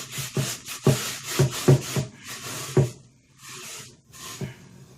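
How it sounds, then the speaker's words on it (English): Coarse salt is scrubbed around inside a rusty cast iron Dutch oven, making close gritty scraping strokes in uneven bursts, several loud swipes and then softer, more scattered rubs. "You can hear the salt digging in. It's getting in the pores. It's getting that rust out of there."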